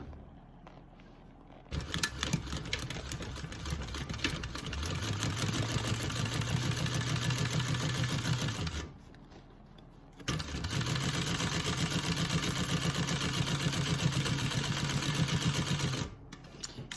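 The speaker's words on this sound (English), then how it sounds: "So I'm stitching on the hide now" Sewing machine stitching through thick leather hide for a bag, running in two sustained bursts of rapid mechanical chatter with a short pause between, fairly close and clear.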